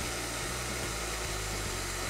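A blender motor whirs loudly and steadily, blending rice farofa until it jams, its low drone shifting slightly in pitch as it labors.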